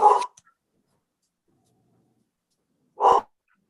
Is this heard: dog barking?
yes